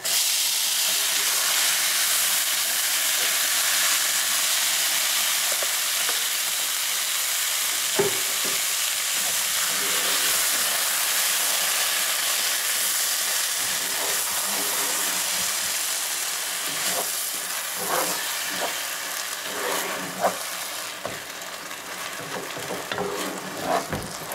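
Tomato sauce fries in a pan with rice and onion for Mexican red rice with chicken, a steady close sizzle and hiss running throughout, with occasional stirring scrapes and clinks.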